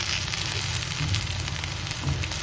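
Onions sautéing in a pan on a gas stove give a steady, close sizzle and crackle that holds evenly throughout.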